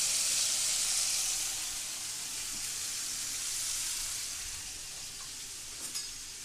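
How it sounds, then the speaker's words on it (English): Beef sizzles steadily in a hot pan for a Cantonese dish, a broad hiss of frying that holds fairly even throughout with a faint clink near the end, no talking. "start cooking in all this beef in there"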